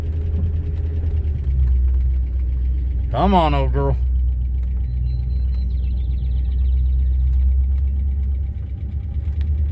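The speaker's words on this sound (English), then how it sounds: "it sounds like she's got a little bit of a lifter tick" An old truck engine idles steadily with a low rumble and a faint tick running through it, while a person speaks briefly over it near the start.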